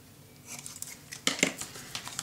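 Scissors snipping through craft paper, a few quick close cuts with crisp rustling, the loudest pair of snips midway, quiet room otherwise.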